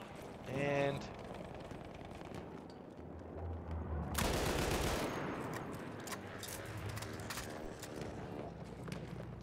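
Gunfire in the video game Battlefield 1, with loud rapid bursts and a sustained fusillade that echoes away. A voice briefly talks at the start.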